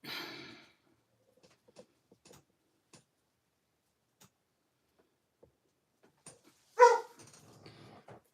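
A dog gives a single sharp bark partway through, near and moderately loud, amid long near-silence with faint ticks and a breathy sound at the start.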